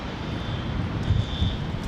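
An Embraer Phenom 300 business jet flies near Dallas Love Field airport in the rain, a steady, moderately loud engine roar with wind noise and a faint high whine.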